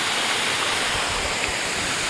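Steady, dense rush of a mountain waterfall pouring into a stream gorge, a loud, continuous broadband roar with no pauses or voices.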